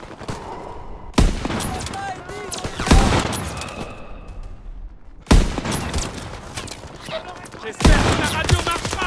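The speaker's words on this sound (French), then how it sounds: "On me tire dessus." Bursts of gunfire in a combat scene, several loud clustered volleys of shots with brief gaps between, heavy and close, with raised voices mixed in.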